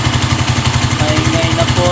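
A motorcycle engine with a noisy magnetic flywheel, idling close by in a steady rapid pulsing rhythm with a rattling mechanical clatter riding on top, loud and alone.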